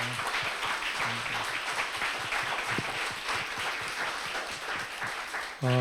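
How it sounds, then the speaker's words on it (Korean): Encouraging applause from a church congregation at a leadership workshop, honoring the women's group members standing up; moderately distant, steady clapping with a brief voice or tone near the end. "우리 한번 박수, 격려의 박수 한번"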